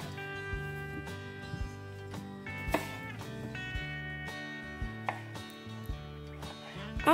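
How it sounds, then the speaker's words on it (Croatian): Knife chopping washed new potatoes into quarters on a board, a handful of irregular, crisp cuts sitting under steady background music. "Ovaj mladi krompir sam oprala, očistila i sada ću ga iseckati ovako na četvrtine."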